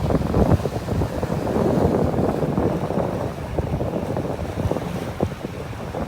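Breezy wind on a beach in North Naples, Florida, blusters steadily across the microphone as a loud, low rumbling roar with uneven gusts and no voices.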